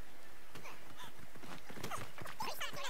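A horse's hooves clop in a rapid rhythm on a road in the game Assassin's Creed Odyssey, fairly faint and close, with a brief snort or whinny-like sound mixed in.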